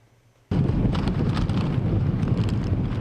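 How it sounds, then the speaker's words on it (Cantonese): Strong wind and surf hit the shore at Hang Fa Chuen, Hong Kong, after Typhoon Koinu. A heavy, loud roar of wind buffeting and crashing waves starts abruptly after a quiet half-second and then holds steady. "杏花村嘅風勢仍然好大，湧浪拍岸"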